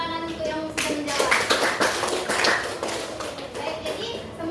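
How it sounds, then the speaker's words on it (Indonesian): A biology class of students clapping together, a loose burst of hand claps starting after a brief pause and continuing for several seconds, with children's voices in the room underneath. "Beri tepuk tangan untuk yang sudah menjawab."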